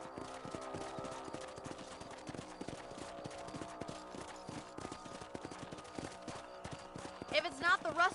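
Horse hooves clip-clop steadily at a gallop in Red Dead Redemption on PS4, a rhythmic mid-distance beat that runs throughout, with a brief burst of brighter sound near the end.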